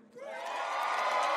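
Concert crowd at an awards-show performance swells into loud cheering and whooping that builds and holds, with no break in the roar.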